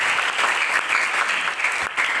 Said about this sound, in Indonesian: Beri tepuk tangan yang terbaik buat Tuhan Yesus Kristus